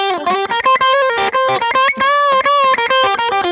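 Electric guitar played through a TC Electronic Flashback delay pedal into an amp with its input level raised for mild distortion, sounding a sequence of sustained, slightly gritty notes that ring and repeat with delay echoes, loud and without talk.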